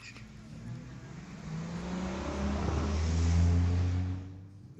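A 97 Chevy and an 89 Blazer at a street-legal drag race at Mission Raceway Park, engines droning and building to a louder roar before cutting off, with an announcer talking over them.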